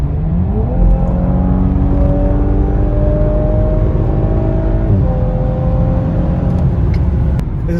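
A car pulling hard on the German Autobahn, its engine climbing steadily in pitch through a gear, dipping at a shift and rising again, loud and close with road roar underneath.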